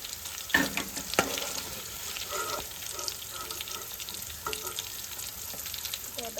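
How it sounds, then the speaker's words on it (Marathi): Paneer pieces deep frying in oil over a low flame, a soft, steady bubbling sizzle with a few sharp clicks and scrapes of a utensil, fairly quiet and with no talking. "हांवें बेश्टें हे लो फ्लेमीचेर डीप फ्राय करून घेतला"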